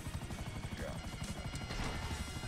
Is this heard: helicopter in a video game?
yes